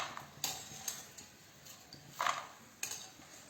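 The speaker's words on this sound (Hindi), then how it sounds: "आवाज आपको सुनाई दे रही होगी कि कितने क्रिस्पी हैं ये।" Crispy golden-brown fried snacks being lifted and handled in a pan, giving a few sparse, sharp clicks and light clinks over a quiet background, faint and close, with no talking.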